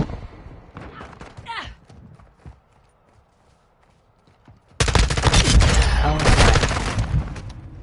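Dense, rapid automatic gunfire from the Call of Duty video game suddenly erupts loud in the second half, after quieter clattering game sounds and a brief voice.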